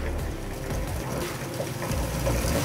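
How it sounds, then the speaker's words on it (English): Water bubbling and rumbling as it boils in a glass teapot, a steady close churning gurgle with no voices. "but the water is bubbling"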